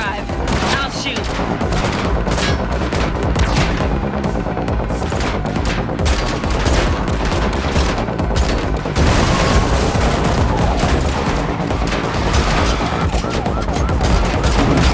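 Gunfire in the Matrix Unreal Engine 5 demo on PS5: dense, loud, continuous bursts of shots during a car chase, mixed with sirens and engine noise throughout.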